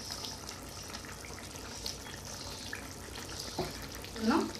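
Pieces of katla fish frying in a pan for a Bengali-style jhol, a soft steady hiss with small crackles and a louder sizzle near the end, under a faint voice.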